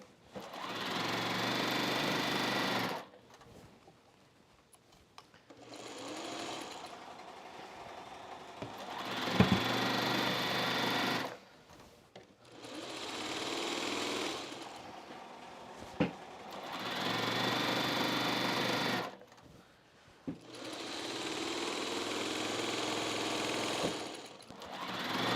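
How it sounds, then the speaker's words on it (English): A sewing machine stitches a seam on a jelly roll race quilt, whirring in steady bursts of several seconds each, broken by short pauses, with no talk. "And then we'll go back and sew seam number 4."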